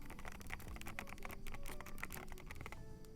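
A second computer keyboard typed on: a few seconds of close, sharp key clacks in uneven bursts, slightly heavier than the first, with no speech.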